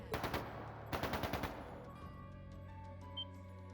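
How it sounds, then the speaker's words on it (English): Two quick bursts of rapid gunfire, each a rattling string of shots, followed by fading electronic tones and a short beep. "That sounded like gunfire."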